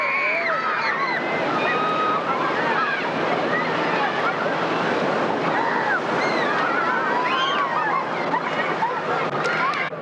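Big ocean waves breaking as surf off the San Diego, California coast make a steady, loud, broadband roar that continues through the whole stretch without a pause.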